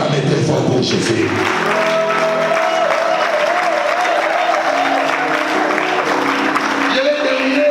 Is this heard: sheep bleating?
no